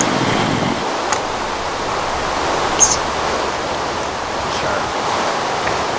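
Steady rushing water in a blocky Minecraft-style survival game, a constant broadband wash with no breaks, with a brief voice over it and a couple of faint clicks.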